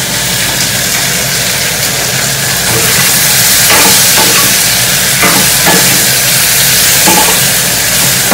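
Okra frying in a hot pan, a loud, continuous sizzle and hiss with scraping stirring strokes mixed in, close and steady throughout, with no talking.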